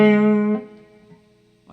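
Guitars sounding a harmonized interval from a song: one sustained, effects-tinged chord ringing out and fading, followed by the start of another note, close and clear with no speech.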